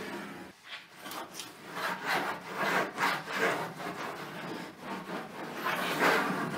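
Close, rhythmic rubbing strokes as a cloth wipes down the wet body panel of a 2015 Chevrolet Silverado 2500HD after rinsing, a steady back-and-forth scrubbing about twice per second.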